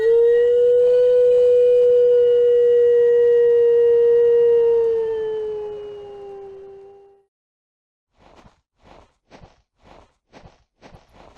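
A recorded wolf howl plays loud and alone as one long, sustained, slowly falling call lasting about seven seconds, ending in silence before a series of short, evenly spaced footstep-like thuds.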